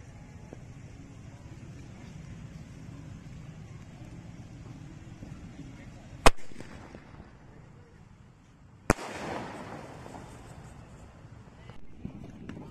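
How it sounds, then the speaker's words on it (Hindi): A Chhota Bheem sky shot firework for Diwali is lit and launched outdoors, giving two sharp cracks a few seconds apart over quiet wind and distant background noise. "छोटा भीम वाले स्काई शॉट को जला के देखते हैं कैसा चलता है।"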